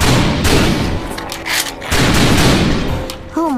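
The House of the Dead: Overkill, a rail shooter game, gives loud dense bursts of gunfire and heavy booms that fill the whole stretch, with a brief tonal game sound near the end.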